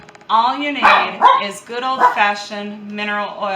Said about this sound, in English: I apologize for the dog barking.